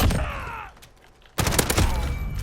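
Rapid MP5 bursts in Call of Duty: Modern Warfare, loud close gunfire in two clusters separated by a short quiet gap, with fading echoes and faint game effects between shots.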